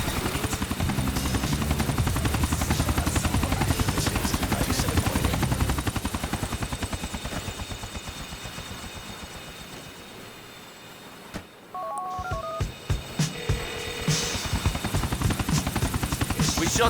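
A helicopter in the Grand Theft Auto style game follows Niko, its rotor beating in a fast, steady chop that thins out and fades, then returns amid brief electronic beeps and game noise.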